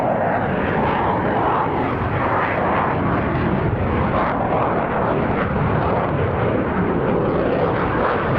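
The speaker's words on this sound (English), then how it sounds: "another instance of the Hornet's superb low-speed manoeuvrability" A Hornet jet performs low-speed manoeuvres and a pirouette descent in a flying display at an air show, its engine roar loud, broad and continuous without a break.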